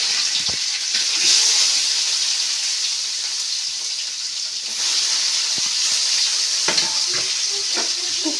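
Curry leaves fry in hot oil after cumin in a village kitchen, giving a loud, steady sizzle with scattered crackles and pops throughout.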